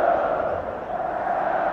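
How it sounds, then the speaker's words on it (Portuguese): Stadium football crowd roaring and chanting continuously at a Brazilian league match between São Paulo and Botafogo, a steady dense mass of voices heard from a distance with no commentary over it. "a torcida está gritando"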